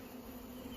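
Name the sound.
honey bees buzzing in a hive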